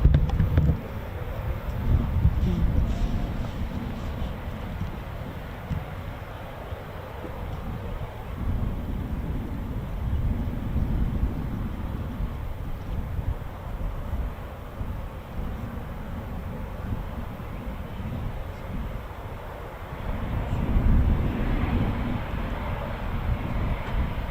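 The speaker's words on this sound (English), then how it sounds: "more Foons taxiing out and more for departure" Eurofighter Typhoon FGR4 jets taxi out for departure at RAF Coningsby, a continuous low engine rumble heard at a distance beneath gusty wind buffeting the microphone, swelling slightly near the end.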